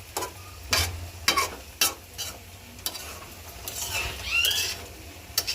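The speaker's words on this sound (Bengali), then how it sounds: "এখন লাল শাকটা একটু নাড়া দিব" Red amaranth leaves being stirred in a pan: repeated close scrapes and clacks of a spatula every half second or so over a soft, continuous frying hiss.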